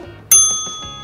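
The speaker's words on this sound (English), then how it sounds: "It's a bell, Aloofa!" A bell is struck once, close and bright, during a What's in the Box challenge game, its clear metallic ring fading slowly after a brief moment of quiet.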